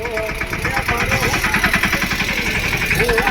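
A motor vehicle engine runs close by with a steady, rapid, pulsing throb as it sets off for home, loud and continuous while people talk over it.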